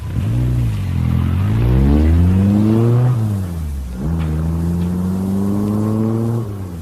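A car in a radio drama starts and pulls away, its engine revving up through rising gear changes, then dropping and climbing again as it drives off, loud and close with no speech.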